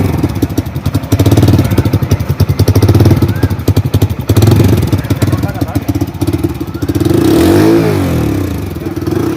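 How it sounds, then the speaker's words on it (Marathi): A newly bought motorcycle engine idles with a rapid, steady firing putter, then revs up in rising swells that dip and return, loud and close, with people talking over it. "फायरिंग वाज"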